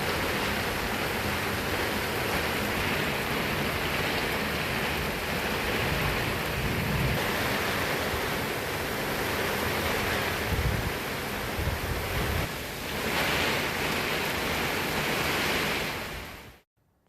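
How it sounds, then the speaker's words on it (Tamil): Strong wind blows with rain in Virudhachalam, forming a loud, continuous roaring wash that ends abruptly. "மழையுடன் பலத்த காற்றும் வீசியது."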